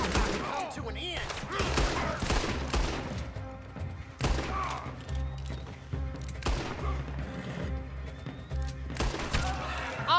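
Rapid gunfire in the video game Red Dead Redemption 2, a fusillade of sharp, loud shots cracking in irregular bursts for several seconds, with a voice heard faintly between them.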